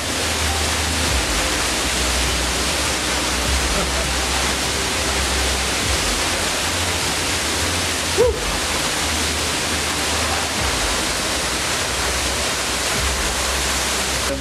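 The Lubuk Bulan waterfall in West Sumatra thunders from just behind the falling water, a loud, dense, unbroken rush of noise that fills everything, with a brief faint knock partway through.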